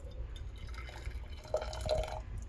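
Hot water is poured into pots of yarn dye, making a soft, quiet trickle with scattered drips over a low background hum.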